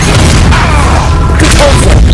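The Confringo blasting spell erupts in the Hogwarts Legacy video game as a loud, sustained explosive boom filling the whole moment, with a voice faintly mixed in.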